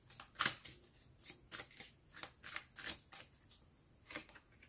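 Tarot cards being shuffled by hand, close and quiet, a series of short papery riffles and slaps in an uneven rhythm, without any speech.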